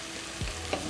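Potatoes frying in a pan over a low flame, a soft continuous sizzle with a brief low thump and a light click, heard alone for about a second.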